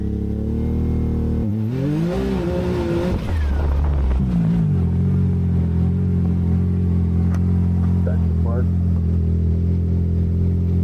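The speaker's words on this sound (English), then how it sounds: "Now I gives the throttle, and you'll hear it. You hear that two-step?" A Ford Maverick R with an EVO transmission tune sits on launch control, its engine revving up and then holding a steady, loud, rough two-step burble. The sound is close and continuous.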